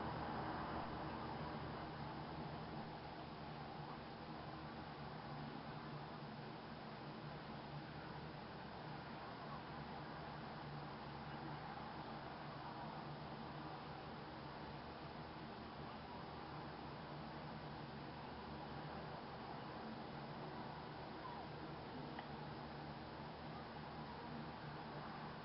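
Steady roar of freeway traffic from close by, a constant low wash of noise that stays fairly faint and unchanging throughout, with no talking.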